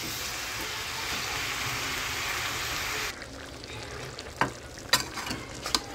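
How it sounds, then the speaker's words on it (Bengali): Pumpkin curry with loitta dried fish sizzles loudly in a pan for about three seconds, then drops to quieter scraping and a few sharp clacks of a stirring spoon. "আচ্ছা এটা ধরো, আমি নাড়া দিই।"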